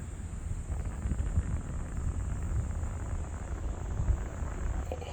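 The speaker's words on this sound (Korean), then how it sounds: "바람 소리 들어보세요" Steady wind blowing with a constant rushing noise and a faint high whine, no voices, at a cold outdoor foot-bath site in Boryeong, South Korea.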